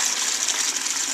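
Water gushing steadily down onto leaves at the equator, a close, loud, continuous hissing pour with no breaks.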